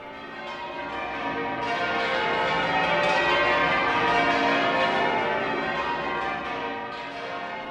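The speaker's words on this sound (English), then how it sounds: "the bells would be ringing out" Church bells on the Isle of Man pealing continuously, several overlapping bells ringing out together in a full, resonant wash that swells and holds steady.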